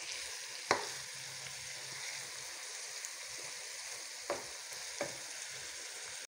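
Shrimp and corn fry in butter in a pan with a steady, even sizzle, broken by a few light scrapes and clicks of a utensil before cutting off abruptly.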